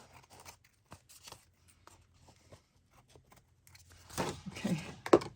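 Scissors snipping through book pages during collage trimming, a few quiet cuts early on, then a louder burst of cutting and crunchy paper handling near the end.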